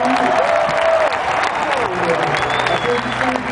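Crowd applause for the players at Olympique de Marseille's Vélodrome stadium, a loud continuous wash of clapping and crowd noise with voices talking over it throughout.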